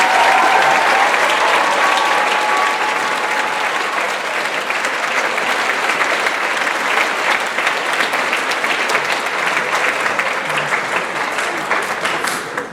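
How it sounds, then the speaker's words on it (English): Loud, sustained applause at a 2019 college graduation celebration as faculty and staff stand, a dense wash of many hands clapping with a few whistles early on, slowly easing. "Let's give them all a round of applause"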